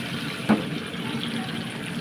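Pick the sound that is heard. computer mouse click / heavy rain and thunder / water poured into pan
water poured into pan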